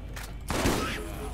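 A gun fires in the shooter Borderlands as a short burst of sharp shots around a heavy blast, close and loud, with a voice briefly at the edge.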